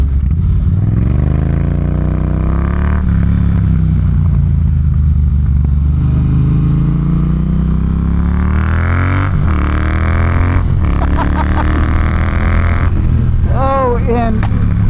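Triumph T120 motorcycle engine while riding, a loud steady rumble that climbs and falls in pitch through gear changes, running continuously under wind noise from start to finish.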